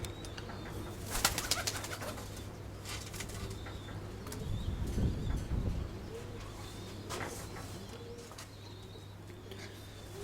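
Grey scaly pigeons of a steel white-tailed breed coo softly and flap their wings nearby, with a burst of wingbeats early on and low murmuring coos through the rest.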